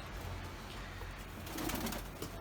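Pigeons in a freshly cleaned coop give soft, low, rolling coos close by under a steady background hum, with no talk.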